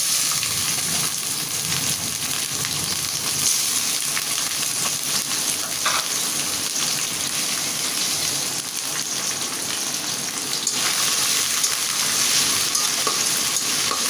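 Shrimp sizzling steadily in hot oil with onion in a pan, a continuous dense crackle with occasional stirring scrapes, close and loud with no talking.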